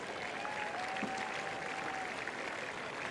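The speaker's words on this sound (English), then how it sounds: "That deserves a round of applause." Tennis crowd at a Kyrgios versus Zverev match applauds in a dense, steady wash of clapping that holds at an even level throughout, with no single claps standing out.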